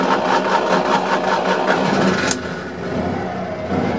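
A 1963 Citroen 2CV Truckette's small air-cooled engine fires up warm and settles into an even, throbbing idle, close and steady with a brief dip midway.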